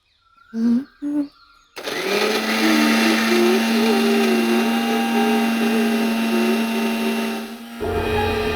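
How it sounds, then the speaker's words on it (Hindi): A loud electric mixer grinder grinding spices whirs steadily for several seconds with a high motor whine, preceded by two short bursts, then cuts off near the end. "जब आप मिक्सी में मसाले पीसती हैं"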